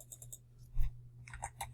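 Light, quick clicking of keys on a computer keyboard, a short burst of irregular taps at close range, faint and without talk.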